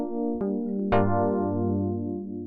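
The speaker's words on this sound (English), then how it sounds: "in there I've used the Rhodes electric piano" Mellow Rhodes electric piano notes struck one after another and left ringing, with a gentle wah-like wavering wobble as they sustain, close and clear with no talking.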